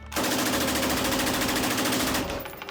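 Fully automatic machine gun fired at a range, unleashing a single loud, continuous rapid burst of about two seconds, with a fast, even rhythm of shots close up.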